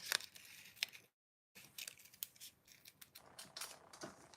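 Scissors snip through small pieces of card for a handmade heart-shaped card, producing a few crisp close cuts with a brief pause between them.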